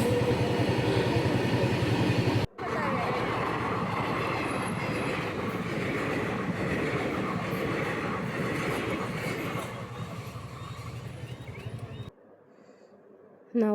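A train rolls past a closed railway level crossing in a loud, steady, close rumble of wheels and carriages for about ten seconds before the sound cuts away abruptly.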